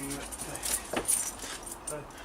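A bunch of keys jingles in short, light metallic bursts close by, brief and fairly quiet with some background noise.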